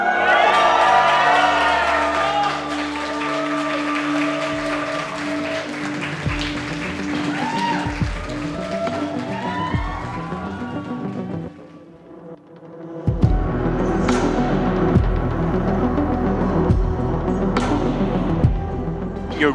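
Fans at an esports playoff match involving Defiant cheer, whoop and applaud in a loud, sustained roar. It dips briefly, then surges back with a heavy low rumble.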